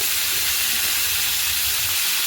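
Potatoes added to a hot wok produce a loud, continuous hiss of sizzling oil. The sound is close and steady, with no voices over it.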